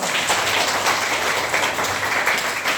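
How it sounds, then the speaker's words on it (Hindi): Children in a classroom clapping loudly together, a dense continuous patter of many small hands close by with no pauses and no talk. "जोरदार ताली बजा दो"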